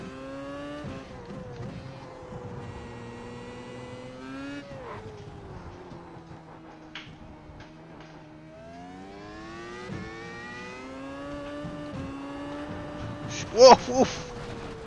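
A race car in the iRacing Grand Prix Series sim roars and revs up and down through the gears, with a short sharp tire squeal near the end, under a voice talking throughout.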